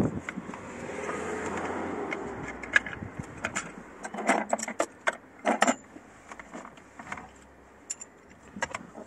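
A car battery bracket being screwed back into a BMW 1 Series E87 engine bay, heard as a run of close metallic clicks, ratcheting and jangling taps, irregular and bunched, over a low background hum.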